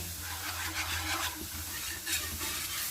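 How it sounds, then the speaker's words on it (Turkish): A spoon stirs milk into a spinach gratin béchamel in a pan, a soft scraping swish that repeats in short strokes over a faint sizzle, close and moderately quiet. "Şöyle bir karıştıralım kıvamına bakalım arkadaşlar"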